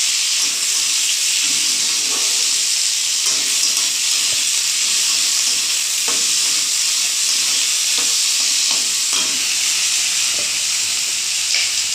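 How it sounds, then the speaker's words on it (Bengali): Potatoes, onion and green chilli fry in a hot pan with a dense, steady sizzle and hiss that runs the whole time, broken by occasional soft stirring scrapes. "আলু, পেঁয়াজ, কাঁচা লঙ্কা ভাজবো"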